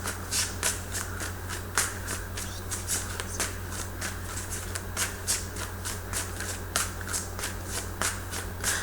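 A deck of tarot cards is shuffled close up for a simple three-card weekly reading, producing a steady run of crisp riffling snaps and flutters over a low constant hum, with no talking.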